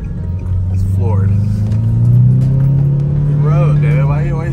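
Kia Stinger with a CVT accelerating at full throttle from inside the cabin, a steady droning engine note that climbs and holds, with people talking over it.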